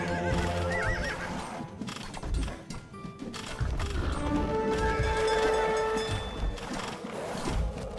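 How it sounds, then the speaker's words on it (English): Horse archers in the video game Age of Empires II neigh and whinny with clip-clopping hooves, loud and busy over mechanical clicks and gear-like game effects. "These horse archers will help you in your battles."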